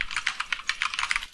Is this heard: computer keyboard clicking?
yes